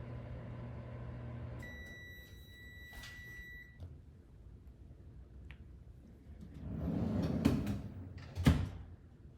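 A microwave oven cooking a bowl of mac and cheese, a low steady hum with a high tonal whine, then the door clunking open and clattering handling noises.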